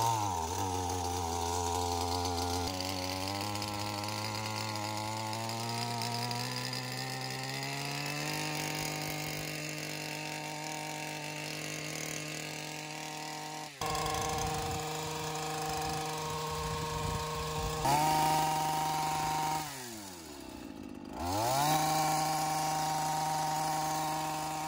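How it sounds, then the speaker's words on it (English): A hedge trimmer cuts through a ligustrum hedge in a spring landscaping job, its motor running steadily and close by with a shifting buzzing whine as the blades work through the branches. "we come in with the hedge trimmer and go right there at the joint"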